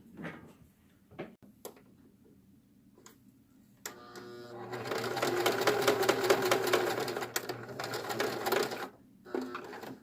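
A sewing machine runs a wide straight stitch on swimsuit fabric in one steady, close burst of about five seconds, after a few light handling clicks and knocks.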